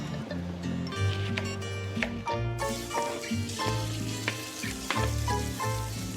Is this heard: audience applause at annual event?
no